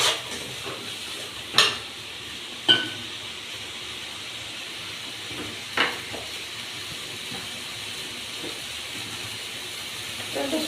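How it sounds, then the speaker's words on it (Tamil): Cauliflower frying and being stirred in a pan, a soft continuous sizzle and hiss broken by a few sharp scrapes or clinks of the utensil. "காலிஃப்ளவரை இப்போ போடுறோம். போட்டு அப்படியே கொஞ்சம் நேரம் அப்படியே கிண்டி விடுறோம்"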